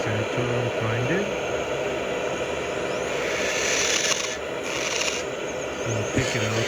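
A dental tool grinds a zirconia implant provisional, giving a steady, close rasping and rubbing texture with brief tonal whines at the start and end; no speech is heard over it.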